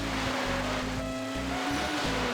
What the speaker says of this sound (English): The waves are here. We are racing among the waves.